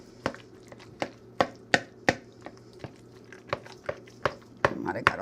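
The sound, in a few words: mixing potato salad with boiled eggs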